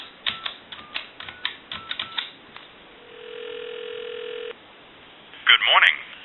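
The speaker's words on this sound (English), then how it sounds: "I'll give you some dial tone, and we can dial a time and temp number" A Western Electric Princess telephone with a steady dial tone holding for about a second and a half, preceded by a quick run of clicking dial pulses or keypresses, then a burst of tone near the end; close, clear line audio.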